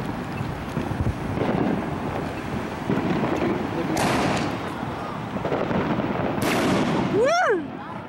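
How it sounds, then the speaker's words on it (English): Fourth of July fireworks going off outdoors, with broad booming bursts and crackle under steady wind noise on the microphone, then a rising whistle from a launched shell near the end; a voice talks briefly. "That's a decent firework right there."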